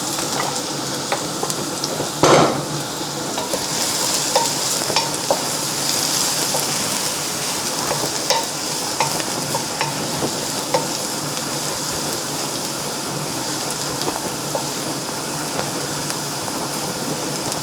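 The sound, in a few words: garlic frying in oil in a pan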